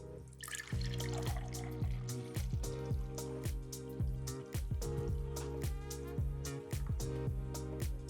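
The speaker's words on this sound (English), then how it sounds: "Just give it a nice pour." Fizzy homemade tepache, a fermented pineapple drink, pours steadily into a glass with a trickling, bubbly texture, continuous and close, with small splashes throughout.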